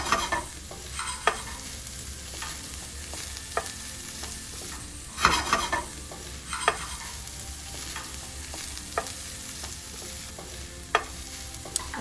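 Garlic and onion sizzle in a hot pan while a utensil stirs and scrapes through them, a constant frying hiss broken by intermittent clicks and knocks against the pan, close up with no talking.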